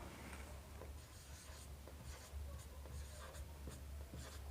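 Chalk or marker scratches across a board during a Class 10 trigonometry lesson, a faint dry rubbing in short repeated strokes with no talking.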